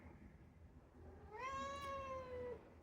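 A pet cat gives one clear, drawn-out meow that rises and then slowly falls, close by against a quiet room hum, with no talking.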